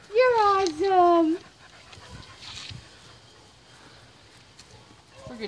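A puppy pants while chasing soap bubbles. A loud, high, voiced sound opens, then soft, faint breathy panting follows and continues quietly.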